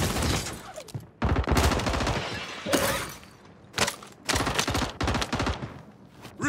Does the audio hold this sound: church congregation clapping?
no